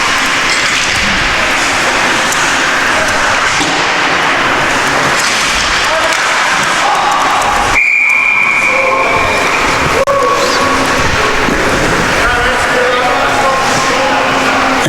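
A referee's whistle sounds at a Portland State versus Oregon ice hockey game, one sustained shrill blast cutting through loud arena crowd roar and rumble.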